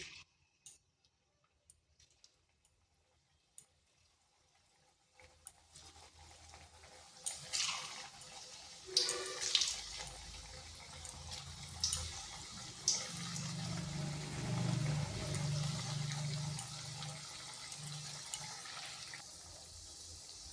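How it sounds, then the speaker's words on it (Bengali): Pieces of a sweet made from ripe banana and milk drop into hot oil, and after a quiet start a steady hiss of frying swells up and holds, with a few small pops and clicks on top. "এখানে তেল গরম হয়ে গেছে এরপর এগুলো দিয়ে দিচ্ছি"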